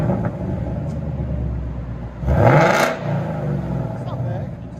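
Jeep Wrangler with its resonator cut off, exhaust roaring in one short, loud rev burst over a steady idle rumble, with voices talking nearby.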